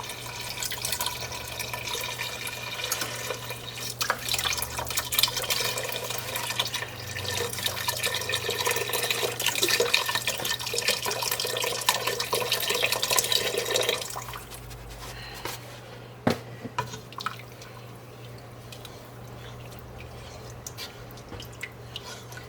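Beef stock pours into a cooking pot over raw onions, a steady liquid splash and trickle lasting about fourteen seconds, then dropping off to a few faint drips under a low background hum.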